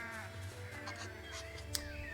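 Sheep bleat in the Renowned Explorers video game, a few wavering cries over a low steady game background, soft and fairly close.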